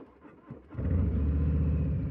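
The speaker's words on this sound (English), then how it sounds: "Listen to that Two Brothers exhaust. It sounds amazing." Harley-Davidson Fat Bob motorcycle fitted with a Two Brothers exhaust, the engine starting quiet and then swelling into a deep, loud, steady rumble as the bike pulls away and cruises.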